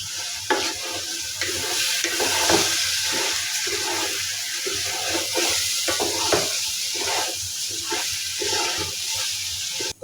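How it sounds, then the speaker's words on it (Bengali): Rice coated with ginger paste, garlic paste and salt frying in a pan while being stirred, giving a steady close sizzle broken by repeated scraping strokes, with no talking. "এখন আমি চালটাকে ভালোভাবে কষিয়ে নেবো"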